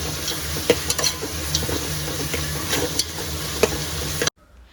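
Salted food frying in a home kitchen pan, a continuous close sizzle with scattered sharp stirring clicks and scrapes, cutting off abruptly near the end with no talking.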